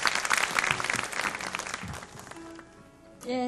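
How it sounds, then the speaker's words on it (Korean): A church youth worship congregation applauds a newcomer, a burst of loud clapping that thins and fades within about two seconds before a voice begins to speak. "박수로 네, 우리 축하드리도록 하겠습니다"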